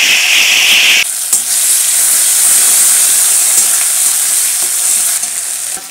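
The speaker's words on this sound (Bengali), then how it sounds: "পেঁয়াজ মশলাগুলো ভালোভাবে ভাজা ভাজা হয়ে গেছে" Onion, ginger, garlic and green chili paste sizzles loudly in hot oil with whole cumin for a Bengali potato curry, a bright steady hiss that jumps as the paste goes in, with occasional stirring clinks.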